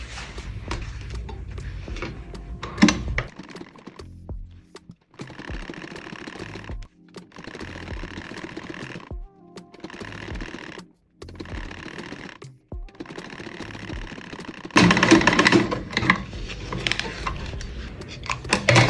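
A sewing machine runs a stitch along a baguette bag's ruched strap in several bursts of rapid mechanical whirring and ticking, broken by short pauses, with a louder, steadier run near the end and no talk.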